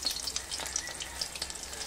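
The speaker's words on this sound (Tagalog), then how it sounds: "iprito na po natin yung tortang dulong" A tortang dulong, an omelette of tiny dulong fish, fries in a pan with a steady, close crackling sizzle and dense bright spatter throughout, with no voices.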